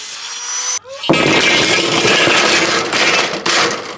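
A power tool cutting along a marked line on a sheet, starting after a brief pause with a loud, continuous buzzing whine that holds steady for about three seconds with a couple of short dips, close up.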